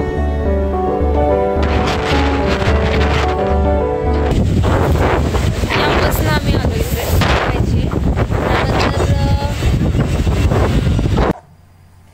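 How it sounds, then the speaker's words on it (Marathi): Strong cold wind sweeps across a forested mountain road near Himavad Gopalaswamy hill, buffeting the microphone in a loud, rough roar after a few seconds of music, then cutting off abruptly near the end. "इथं किती वारा आहे ना, एकदम थंड वाटतंय"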